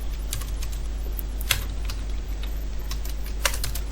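Steady keystrokes on a computer keyboard while typing Android app code, continuous close clicking with a few louder key hits over a low electrical hum.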